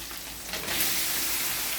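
Squid dropped into a hot frying pan for adobong pusit, over sautéed tomatoes, giving a loud, steady sizzle that swells as it lands and keeps hissing close by.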